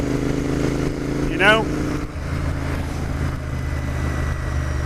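Royal Enfield Interceptor 650 motorcycle engine on a test ride, a steady low drone running throughout with wind rush, while a rider talks briefly over it.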